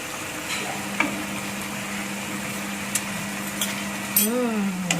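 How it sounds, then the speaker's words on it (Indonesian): Pork and potato stew being stirred in a pan, giving a soft continuous sizzle and bubbling with a few light scrapes and clinks of the utensil, moderately close. "Kita aduk kembali."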